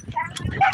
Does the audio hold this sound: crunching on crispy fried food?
no